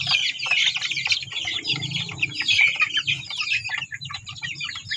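A flock of chicks at evening feeding keeps up dense, high peeping and chirping close by, mixed with a few lower clucks from older fowl, continuous and busy throughout.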